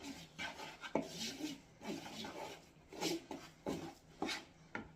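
Butter being stirred into a glaze for cherry bars, with soft scraping and rubbing strokes of a utensil against a bowl, irregular and close, repeating every half second or so with occasional sharper taps.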